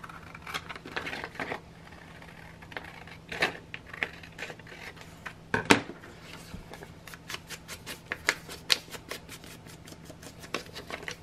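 Paper pages trimmed for a craft project, a series of crisp snips and paper rustles in uneven bursts, becoming a rapid run of small cuts toward the end, close and fairly quiet.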